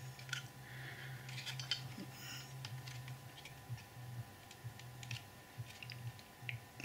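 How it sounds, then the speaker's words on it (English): Scissors trim a small part for a model railway signal box: a quick run of sharp, close snips and clicks over a steady low hum, with no talking. "I need to trim a little bit more off of that."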